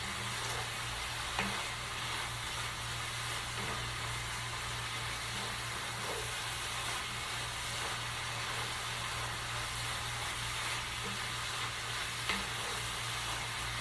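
Meat sears in a hot pan for a New Orleans style Philly cheese steak, a steady close sizzle over a low hum, with a few faint clicks of stirring.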